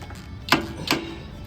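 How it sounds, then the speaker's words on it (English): A 10mm ratchet working screws on a Craftsman LT2000 riding mower with a Briggs & Stratton engine gives two quick, close clicking bursts about half a second apart in a quiet space. "I'm just going to take my 10mm ratchet here"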